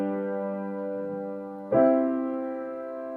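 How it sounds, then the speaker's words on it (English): Sustained Western classical chords played as a harmony example, one held chord then a second struck chord ringing and slowly decaying, clear and alone. "this is much more common sound in Western classical music"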